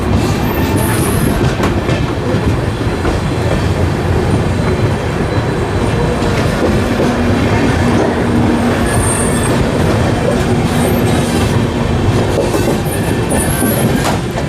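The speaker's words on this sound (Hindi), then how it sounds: "ये है महाराष्ट्र एक्सप्रेस, कोल्हापुर से गोंदिया को चलने वाली महाराष्ट्र एक्सप्रेस, और ये अपनी जर्नी ख़त्म कर रही है आज गोंदिया जंक्शन पर आकर।" The Maharashtra Express from Kolhapur rolls into Gondia Junction, a loud continuous rumble of wheels on rails with clattering joints, occasional high squeals and a faint tonal whine, heard close up throughout.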